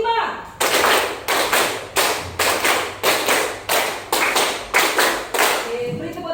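Hand claps in a classroom group exercise, a rhythmic pattern of three bursts of five quick claps each, loud and close, repeated in even groups with brief pauses between.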